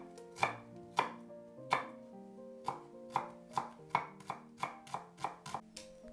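A knife chops shallots on a board in a Lao crispy rice salad kitchen, about a dozen close, crisp strikes in an uneven rhythm, each with a short ringing tail, and no talking.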